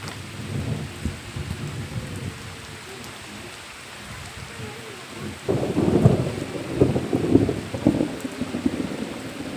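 Rain falls steadily as low thunder rolls in partway through, rumbling heavily for several seconds.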